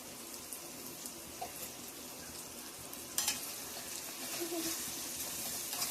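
Egg biryani mixture with salt being stirred in a pan, a faint soft sizzle and scraping under light kitchen clatter, with one louder clank partway through.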